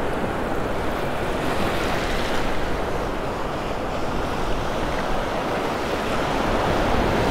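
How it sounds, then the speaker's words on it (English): Surf washes onto the beach at Delnor-Wiggins in North Naples, Florida, on a breezy morning, making a steady loud rush of waves with wind buffeting the microphone throughout and no voices. "Every once in a while, there's some pretty good sized waves crash over it."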